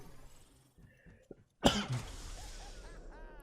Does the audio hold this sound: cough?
yes